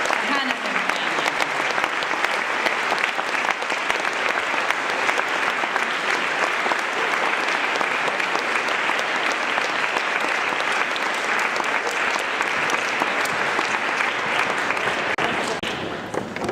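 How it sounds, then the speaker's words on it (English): Audience applause for the Hanafin family, named family of the year at an assembly, fills the hall as a steady, loud, even roar of clapping that holds without a break before easing slightly at the very end. "So I think another round of applause for the family of the year."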